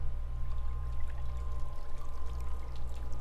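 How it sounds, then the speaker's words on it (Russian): Water trickling and pouring in a steady, continuous stream, moderately close and alone, laid over a constant low electrical hum. "вода журчит."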